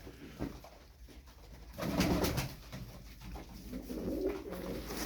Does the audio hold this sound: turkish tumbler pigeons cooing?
yes